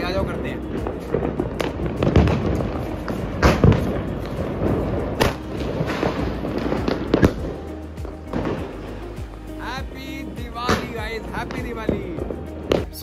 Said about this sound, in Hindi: आज का भाई ये लास्ट पटाखा करने जा रहे हैं हम, और इसके बाद पटाखे खत्म।